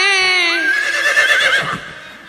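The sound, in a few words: horse neighing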